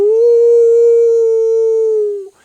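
An audience member imitates a wolf howl during a talk on prairie grasslands: a single loud, sustained, steady-pitched vocal howl lasting about two seconds before cutting off.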